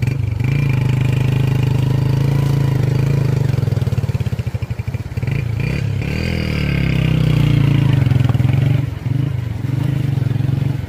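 A motorcycle engine runs steadily at a loud, close idle, with a rough sputtering stretch midway and a brief rev before settling, on a rural road after recent flooding.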